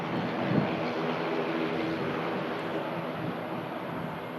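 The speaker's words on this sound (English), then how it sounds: "And that's the next aircraft to arrive." A passenger aircraft arriving at Manchester Airport in thick fog gives a steady, broad distant roar that holds evenly throughout, with wind-like rushing and no voices.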